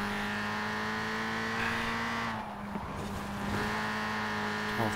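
Engine of a racing car in the Forza Horizon 4 video game, held at a steady high drone, then dropping briefly as it shifts gear before the revs climb again; loud and continuous, with no talk.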